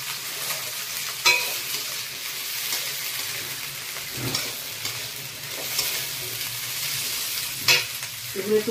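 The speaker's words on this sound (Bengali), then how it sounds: "সবজিগুলো আগে ভেজে নিই" Vegetables frying in hot oil for semolina upma while being stirred, a steady dense sizzle with occasional scrapes and clinks of the spoon against the pan, close and continuous.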